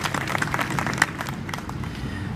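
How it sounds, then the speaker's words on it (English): Outdoor audience at a Memorial Day cemetery ceremony applauding the color guard, a steady mid-distance patter of many hands clapping with no speech over it. "Let's give them a round of applause for their sacrifice this weekend."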